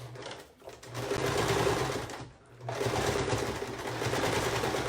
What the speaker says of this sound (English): we're going to sew one more time up that side